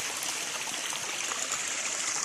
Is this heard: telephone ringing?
no